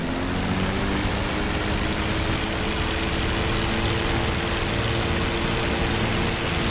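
A P-51 Mustang piston engine in DCS World, throttled down to idle, gives a steady, even drone with a low hum and broad rushing noise, unchanged throughout.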